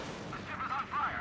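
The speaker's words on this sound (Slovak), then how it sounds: "Ukážte granáty, ako tam dopadnú." Naval gun shells land around a Mogami cruiser in a warship video game, giving a short burst of rumbling impacts and booms in quick succession, moderately loud with no talking.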